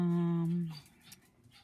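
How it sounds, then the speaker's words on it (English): A puppy gives a high, tonal whimpering whine lasting under a second, close by, followed by quieter scuffling noise. "Oh, my puppy's home."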